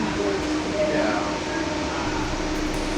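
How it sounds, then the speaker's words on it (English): A freight train rumbles past a stopped Amtrak Empire Builder passenger train, a continuous heavy roar with metallic squeals riding on top. "We stopped to let 2 freight trains go by."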